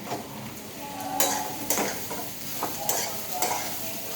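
A washed ingredient tipped into hot ghee sizzles steadily while a spoon stirs it, with sharp scraping strokes against the pan every half second or so, close and moderately loud.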